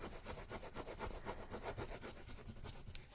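A transfer tool is rubbed over a paper transfer for a junk journal, making quick rhythmic scratchy strokes that are faint and close, with no speech.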